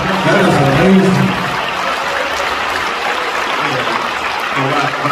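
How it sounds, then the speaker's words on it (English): Audience clapping in applause at a live business event in Houston, a steady wash of claps for several seconds with voices mixed in. "Wow, clap it up for him."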